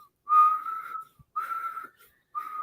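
A person whistles three sustained, slightly wavering notes in a row, separated by short pauses, clear and close in a quiet setting.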